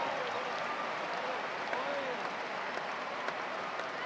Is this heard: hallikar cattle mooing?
no